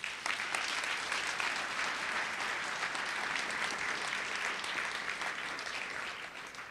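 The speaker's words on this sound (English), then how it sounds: "A round of applause to her." Sustained audience applause fills a ceremony hall at a Women's History Month celebration in Brooklyn Borough Hall, dense steady clapping from a large crowd lasting throughout and fading slightly at the end.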